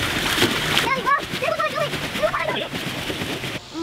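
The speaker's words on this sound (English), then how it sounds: "Tom, start splashing the water out, buddy." Repeated splashing and sloshing of water being scooped and thrown out of a swamped kayak, irregular bursts close by, with a voice talking intermittently over it.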